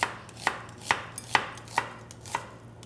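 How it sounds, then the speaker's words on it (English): A knife chops red onion on a cutting board in a steady series of about seven crisp, close thunks, spaced roughly half a second apart, with no talking. "remove the skin and then just get chopping."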